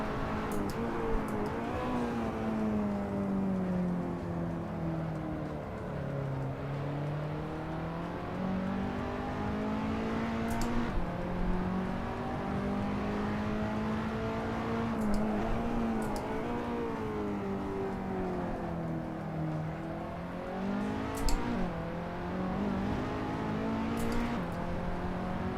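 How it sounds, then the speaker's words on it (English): Race car engine in Assetto Corsa with the engine braking and rising and falling in pitch, a steady close drone that winds down and back up over and over for the whole stretch. "I'm doing monumental engine braking"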